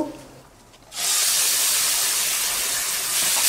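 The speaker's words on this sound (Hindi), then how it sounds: "तो अब हम इसमें डाल देंगे पके हुए मैश किए हुए केले को" Mashed ripe banana drops into oil with browned cumin seeds in a pan. After a quiet second, a sudden loud hissing sizzle bursts up and holds steady to the end.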